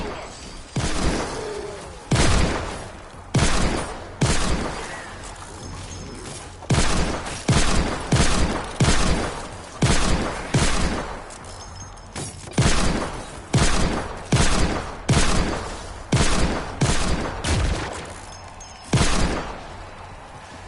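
Rapid pistol fire in the video game Fortnite, a long run of sharp, close, loud shots in uneven bursts, with occasional brief pauses between volleys.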